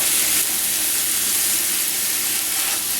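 Steak frying in butter alongside caramelizing onions in a home kitchen pan, giving a steady, close, even hiss of sizzling fat that runs unbroken for a few seconds with no voices.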